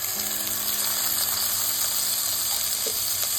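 Medium tomato pieces and onion pieces fry in a pan, giving a steady, continuous sizzle that stays loud and close throughout with no talking.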